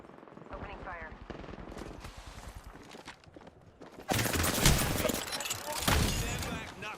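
Video game gunfire opens up in rapid automatic bursts, sharp and dense, and turns much louder and more chaotic partway through. Voices talk underneath.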